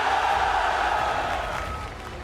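An esports arena crowd in Riyadh roars and cheers as one, a loud sustained wall of voices that slowly eases off, with no clear single speaker above it.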